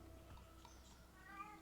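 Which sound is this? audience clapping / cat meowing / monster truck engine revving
cat meowing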